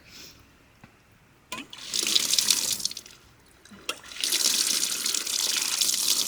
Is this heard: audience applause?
no